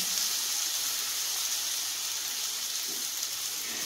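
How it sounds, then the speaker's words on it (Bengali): Soaked rice frying in a pan for basanti polao, a steady soft hiss and sizzle running continuously at moderate level with no talking. "এইটা দিয়ে কিন্তু বেশ ভালো করে ভাজতে হবে কিছুক্ষণ ধরে।"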